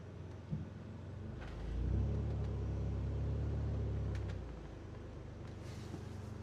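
A car engine rises into a low, rumbling rev for a few seconds while the car is towed up onto concrete, then settles back to a quieter idle, with faint background noise.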